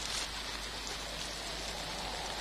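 Steady rain falls in a continuous, even hiss, soft and unbroken, with no voices.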